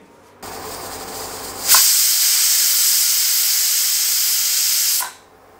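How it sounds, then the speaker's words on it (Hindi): A loud, steady hiss of escaping steam from a pressure cooker cooking mutton rises sharply, holds for a few seconds, then cuts off. "तो ये हमने प्रेशर कुकर को लगा दिया है ढक्कन"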